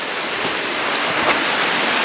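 Steady heavy rain falling outdoors in a rural Ch'orti' Maya area of Honduras, a dense continuous hiss of drops on surfaces with no talk, loud and unbroken from start to end.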